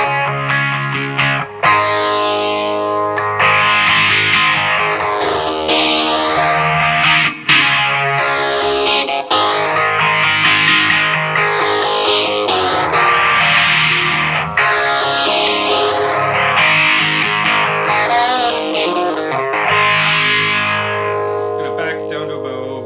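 A guitar runs through a Donner Pearl tremolo pedal set to modern mode, its sweep rising and falling steadily like a resonant flanger over held chords, loud and continuous.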